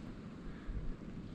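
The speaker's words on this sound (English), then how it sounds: "It's really windy, like 50 kilometer an hour wind gusts." Strong wind gusts roar across an open hunting area on a cold, snowy November day in Alberta, a steady low rumbling buffet against the microphone with a brief swell partway through.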